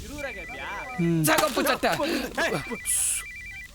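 A phone rings with an incoming call, a repeating electronic ring pulsing steadily under several people talking over each other in a wine shop.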